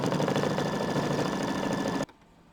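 An embroidery machine stitches a Halloween haunted-house sign design, a loud steady rapid mechanical whirring and clatter that runs continuously and then stops abruptly near the end, leaving near silence.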